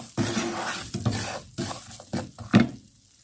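Cashews roasting in ghee in a pan for semolina halwa, with a few loud, uneven bursts of stirring and sizzling scrapes close by, separated by short pauses.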